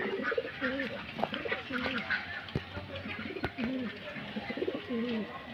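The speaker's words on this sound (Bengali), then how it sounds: "কবুতর কটা আপনার দেখা দিই।" Pet pigeons cooing repeatedly in a loft after rain, several birds overlapping close by in soft rolling calls, with a few sharp knocks and clatters and a low background hum.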